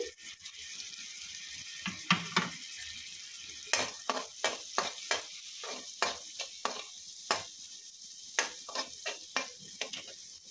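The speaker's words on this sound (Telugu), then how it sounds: "అల్లం, జీలకర్ర, పచ్చిమిర్చి, ఇంగువ ఇవన్నీ ఒక 5 మినిట్స్ వేయించుకోవాలి" Grated ginger, cumin, green chillies and asafoetida fry in a pan, with a soft sizzle under a series of sharp metallic scrapes and taps from stirring.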